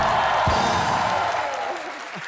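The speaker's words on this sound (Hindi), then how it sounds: "सोनाक्षी के लिए जोरदार तालियां होनी चाहिए पहले तो।" Studio audience applause on a TV comedy show, a brief loud burst of clapping that fades quickly, with a voice faintly audible underneath.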